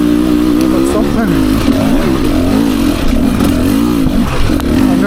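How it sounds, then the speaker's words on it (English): A 2024 Beta 300 RR Race Edition two-stroke dirt bike ridden on single track, its engine droning loud and close with constant revving that rises and falls throughout. "Bike on single track today feels nimble"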